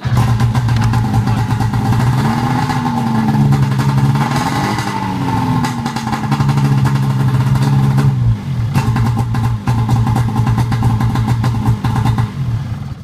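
A 1997–2002 Polaris RMK 600/700 snowmobile engine, suffering a faulty idle sensor, runs loud and close, revving up and wavering in pitch, then briefly stumbling and cutting out near the end before catching again.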